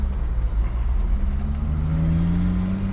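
A 1965 Ford Mustang's engine hums and rises steadily in pitch as it accelerates on a road test, a continuous close-up drone with no talking.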